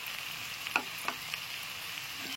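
Mixed winter vegetables with chopped coriander stirred in a pan, a steady close frying sizzle with a few soft scrapes and knocks of the spoon, no talking.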